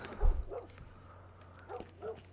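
A dog in The Last of Us video game gives a few short yips and soft whimpers at moderate distance, quiet and intermittent against a faint background.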